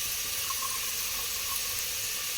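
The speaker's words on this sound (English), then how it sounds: "Going to add a little bit of water" Water being poured into a pan of onions softening in olive oil, a steady close hiss and trickle holding even for a couple of seconds.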